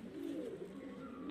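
Rampuri pigeon, a Teddy kabootar, cooing in a steady low soft coo, close and fairly quiet, with no talk.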